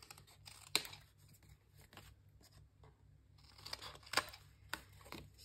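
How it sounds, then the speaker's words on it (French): Scissors bevelling the edges of paper pages for a linen-themed scrapbook album, several crisp close snips spaced a few seconds apart in a quiet room, no talking. "je prends mes ciseaux. Je vais biseauter."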